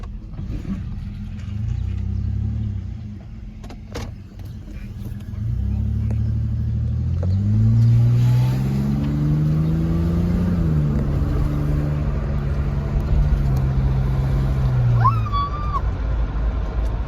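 A Mazda Tribute with a temporary muffler repair, its engine idling with a low rumble, then revving up and settling into a steady, loud drone; a voice speaks briefly near the end.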